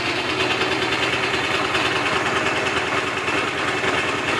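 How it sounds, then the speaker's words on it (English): A 125cc V-twin bobber motorcycle engine runs close by at a steady, fast putter with a rapid pulsing rhythm, fairly loud and with no voices over it. "I get a little rev so you can hear it like revving."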